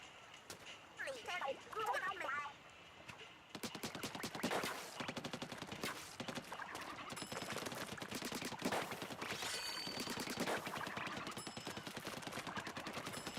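Rapid gunfire from dual-wielded weapons in the video game Splatoon Raiders, dense bursts of shots running almost continuously after a brief opening stretch, with a person talking over the action.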